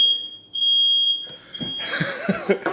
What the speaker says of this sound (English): Smoke detector went off